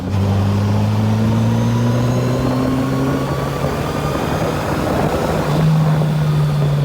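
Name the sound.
FJR1300 motorcycle with modified exhaust revving, 3,000 to 5,000 RPM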